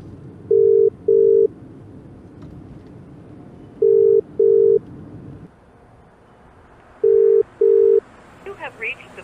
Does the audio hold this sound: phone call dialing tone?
yes